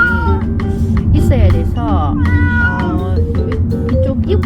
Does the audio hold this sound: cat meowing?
yes